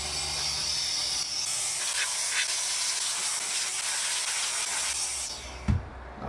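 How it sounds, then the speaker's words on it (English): Compressed air blasting dust off a computer component inside an old Pentium 486 PC, a loud continuous hiss held for several seconds before cutting off with a small knock. "So first of all, let's try to blow the dust off."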